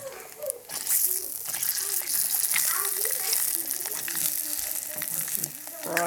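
Bologna slices fry in a pan with a steady, fairly loud crackling sizzle, with occasional sharper pops and scrapes, and a few faint voices in the background.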